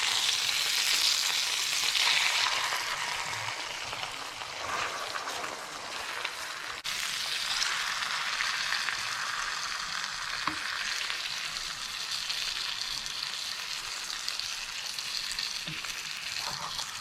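Flour-dredged veal shanks brown in a pan for ossobuco, giving a loud, continuous hissing sizzle with crackling spits, close and steady throughout, with no talk.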